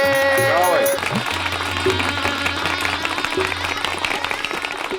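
Wedding guests of a baraat, welcomed at Chandrapuri Colony in a comic TV scene, break into dense continuous applause after a brief opening voice and tones, steady and fairly loud, with voices mixed in.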